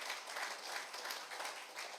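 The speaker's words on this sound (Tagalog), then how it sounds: "Pumalakpak nga po lahat na nagmamahal kay Lord." A church congregation claps during a Sunday worship service, a dense, steady wash of many hands applauding throughout, with no speech over it.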